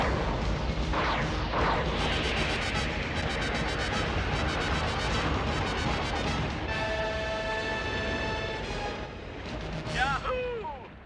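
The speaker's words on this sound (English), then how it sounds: "Launching foam bombs." Foam bombs launching in a cartoon rescue scene, a dense burst of explosive whooshing and crackling with tonal effects and a rising whistle-like streak near the end, loud and continuous, with no speech.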